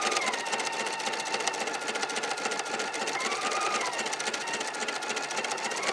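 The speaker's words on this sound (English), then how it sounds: "this kind of gives the long arm quilting look, but you're doing it on your embroidery machine" An embroidery machine runs edge-to-edge quilting stitches, making a steady, fast, close mechanical rattle and hum with no voices.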